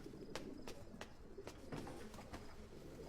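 Pigeons coo repeatedly in soft, rhythmic bursts against a steady background hiss, with no voices present.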